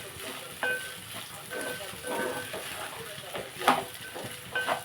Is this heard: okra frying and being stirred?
yes